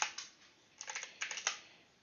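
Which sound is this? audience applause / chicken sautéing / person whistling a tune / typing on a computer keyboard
typing on a computer keyboard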